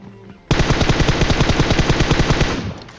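Sustained automatic gunfire in the mobile battle-royale game PUBG Mobile, a loud, fast rattle of closely spaced shots lasting about two seconds before cutting off, with no talking.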